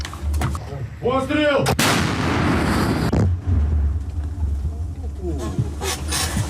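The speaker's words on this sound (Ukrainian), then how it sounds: "Постріл! Постріл!" A loud artillery cannon blast booms close by, followed by a long rumbling echo; a voice can be heard before the shot and faint talk afterward.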